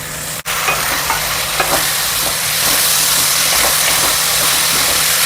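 Tomatoes added to chana dal frying in a pan, a loud, close, steady sizzle that builds and holds, with a sharp clatter at the start and light stirring scrapes beneath, no voices.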